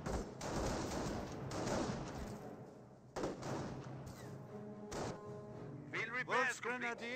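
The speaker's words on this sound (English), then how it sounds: "Getting some fire there from the Volksgrenadiers" Volksgrenadiers firing in a Company of Heroes battle: repeated rifle and machine-gun bursts mixed with thuds under steady game voices and radio chatter, a brief sharp volley near the end.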